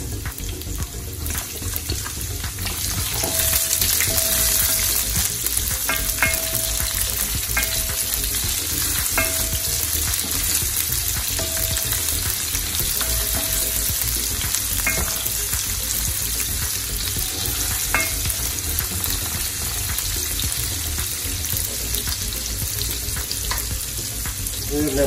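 Garlic and onion sauté in a pan as the base for dinuguan sa gata, a steady close sizzle running throughout with light stirring scrapes and no talk.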